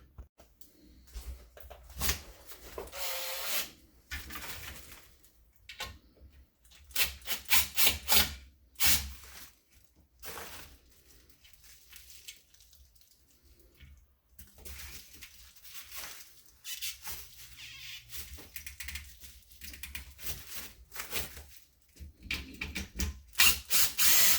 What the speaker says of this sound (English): I'm going to unscrew those clips and take them off before I make the cut